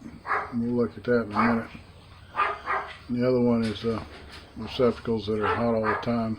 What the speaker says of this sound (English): You have to excuse my dog.